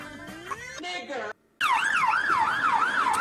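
An ambulance siren wails in a steady rising-and-falling pattern, loud and close, continuing after a brief gap; a voice is heard before it.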